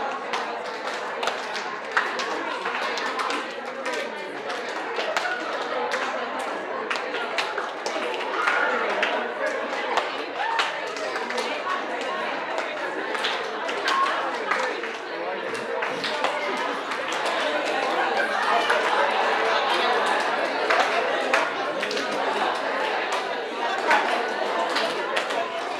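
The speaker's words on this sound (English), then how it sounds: "So clap, snap, 3. Clap, snap, 3." A group at a staff well-being session claps and snaps in a repeating rhythm game, a quick train of sharp taps running steadily throughout, mixed with voices and chatter.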